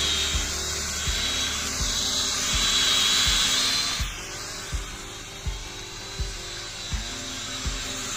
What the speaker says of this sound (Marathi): हे बघा ड्रोन उडता आपलो